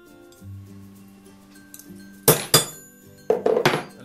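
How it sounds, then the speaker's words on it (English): Metal fork hammered flat in a workshop: a few sharp ringing metallic strikes, loud and close, arriving in two short bursts after a quiet hum. "Flatten the fork out"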